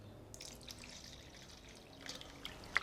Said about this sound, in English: can add a little bit more water.